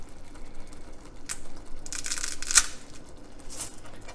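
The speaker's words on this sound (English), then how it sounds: "I'm going to go ahead and add the spaghetti. This is 3 ounces. I'm going to just break it in half." Three ounces of dry spaghetti snapped in half by hand for a salt meat spaghetti: a few crisp, close cracks and brittle splintering bursts spaced over a few seconds against a quiet kitchen background.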